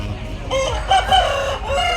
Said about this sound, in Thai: ไก่ชนไก่เนื้อ นะครับ